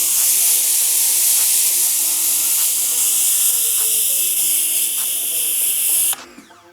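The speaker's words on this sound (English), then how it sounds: "That's car washing spray there." An AVA GO P45 pressure washer sprays water during car washing, a loud steady hiss of high-pressure spray that runs unbroken for about six seconds before cutting off abruptly.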